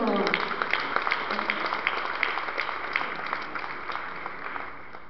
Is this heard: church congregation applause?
yes